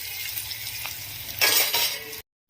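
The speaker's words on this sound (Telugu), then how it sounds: "ఆనియన్ అనేది మంచిగా ఫ్రై అయ్యేంత వరకు కూడా ఫ్రై చేసుకోవాలి." Onions and cut green chillies frying in a pan for wheat rava upma make a close, bright sizzle with a scraping stir that swells briefly, then cuts off abruptly.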